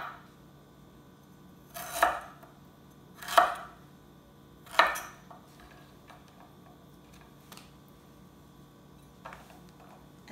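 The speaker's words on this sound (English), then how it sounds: "I'm gonna cut about a 1 inch, just a little generous inch piece of ginger" A knife cuts the skin off a piece of ginger on a board, three distinct crisp chops spaced about a second and a half apart, followed by fainter small ticks and taps.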